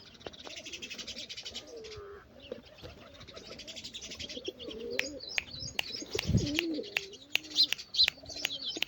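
Soft pigeon coos rise and fall nearby as the pigeons drink water, joined by higher chirps and a few sharp clicks and taps toward the end.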